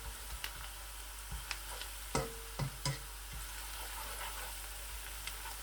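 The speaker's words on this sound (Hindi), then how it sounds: "लहसुन को थोड़ा सा पकाऊँगा ताकि इसका कच्चापन अच्छी तरह से दूर हो जाए" Garlic frying in a pan, with a low steady sizzle and a few sharp stirring clicks and scrapes, near and alone without talk.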